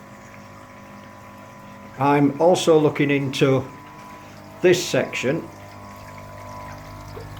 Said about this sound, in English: my water flow is certainly not full belt through that shower